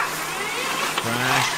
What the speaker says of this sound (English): You even hear him give it a panic rev.